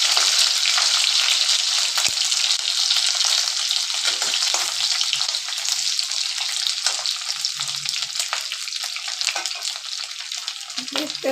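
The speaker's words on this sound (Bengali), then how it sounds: "মাছটা আমার ভাজা হয়ে গেছে" Fish frying lightly in oil in a pan in a rural Bengali kitchen, giving a loud, dense, continuous sizzle with scattered spits and crackles, close and steady throughout, with no talk.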